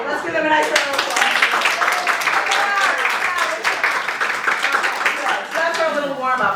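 An audience at an improv show claps and applauds for several seconds, a dense, lively patter of many hands filling the room, with a few voices and cheers mixed in and fading slightly near the end.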